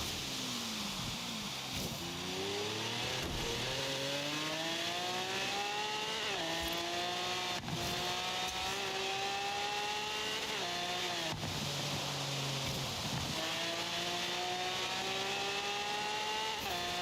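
A racing car engine in Forza Horizon 3 revs continuously, rising and falling through gear shifts with a harsh, buzzing whine, loud and sustained throughout.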